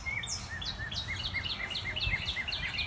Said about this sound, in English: I think that's a cardinal call in there.